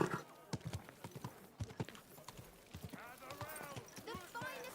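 Steady hoof clip-clops from a horse in Kingdom Come: Deliverance 2, sharp repeated clacks alongside voiced game dialogue.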